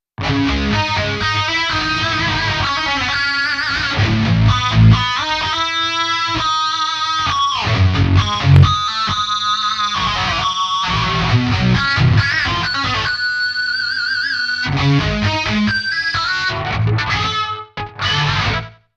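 Heavily distorted electric guitar in a heavy tone with a shimmering digital chorus effect plays chords and riffs continuously, loud and up front, with no talking.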